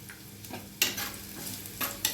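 Curry leaves hitting hot oil, a close sizzle with a few sharp crackling bursts of spitting, steady and without talk.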